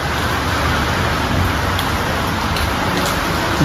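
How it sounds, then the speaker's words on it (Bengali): Heavy rain pours down during a storm outside a house, a loud, constant, dense wash of falling water with faint bursts of gusting wind, close and with no talking. "বৃষ্টি পড়ছে দেখছো মানে শুধু বৃষ্টিই পড়ছে না ঝড়ও হচ্ছে"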